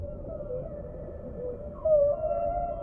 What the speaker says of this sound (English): Sometimes whales use their own sonar, making sounds which can travel many miles, bouncing back from underwater mountains.